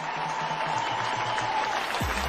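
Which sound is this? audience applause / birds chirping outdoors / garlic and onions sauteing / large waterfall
audience applause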